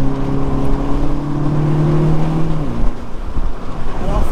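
A 2018 Mini Cooper S Cabriolet's engine pulls hard through the revs on a dynamic road drive. A steady, loud engine note climbs and then drops at a gear change, with continuous road and wind noise underneath.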